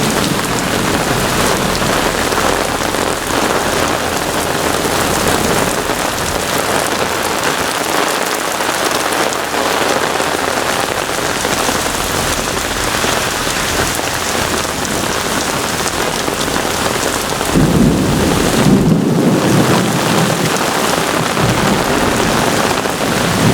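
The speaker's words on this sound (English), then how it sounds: "What a beautiful thunderstorm." Heavy rain pours down steadily during a severe Brooklyn thunderstorm, a dense close hiss of drops on surfaces, with a deeper swell of rumbling thunder late on.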